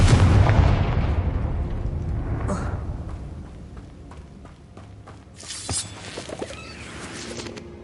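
Fire spell blast in Hogwarts Legacy, a loud opening burst of crackling, rumbling explosion that decays into a lingering roar, with smaller pops and impacts later and someone talking over it.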